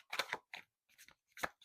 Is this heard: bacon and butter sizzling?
no